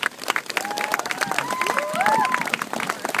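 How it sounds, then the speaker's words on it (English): Crowd applause at a community event, a broad wash of clapping with scattered cheers and voices mixed in, rising and sustained for a few seconds. "give them a good round of applause"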